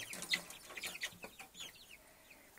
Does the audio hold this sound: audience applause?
no